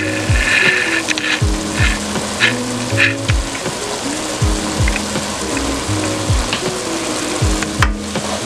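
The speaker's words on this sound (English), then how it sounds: "it has come to a boil" Liquid boiling in a covered pot for steamed salmon, a steady bubbling hiss with a dense simmer that fills the clip, with no one talking over it.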